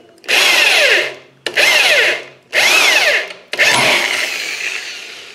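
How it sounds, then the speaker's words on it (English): Four bursts of a power drill boring a hole in metal held in a vise, each whining up and grinding down, close and loud with brief pauses between. "and drill your hole."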